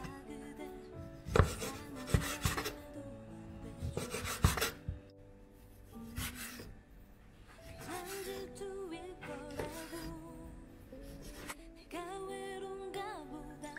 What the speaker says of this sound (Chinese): 米肠解冻后切厚一点的片儿